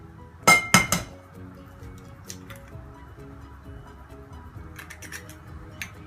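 Egg and other ingredients being mixed in a bowl for chicken strips, with a few sharp clinks of utensil on bowl at the start, then quieter scattered taps over low background noise.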